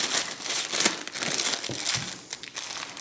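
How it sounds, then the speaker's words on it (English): A plastic bag crinkles and crackles up close as it is wrapped and rolled around a lump of Mexican paste made with gum tragacanth. Irregular bursts of rustling continue throughout with no talking. "I'm going to place this into a plastic bag and roll it into a sausage shape"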